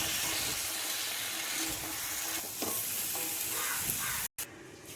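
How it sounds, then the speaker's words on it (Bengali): Cauliflower, potato and carrot pieces are stirred with spices in a pan, giving a continuous loud sizzle and scraping hiss with a brief cut near the end. "ফুলকপি আলু এবং গাজরের টুকরোগুলো মশলার সঙ্গে মিশিয়ে নিচ্ছি।"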